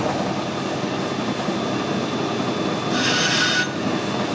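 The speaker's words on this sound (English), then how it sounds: "we'll start the lathe up and machine some off it" A lathe machining a Ford flywheel gives a steady, loud grinding and rumbling hum throughout, with a brief brighter hiss of cutting partway through and no voices.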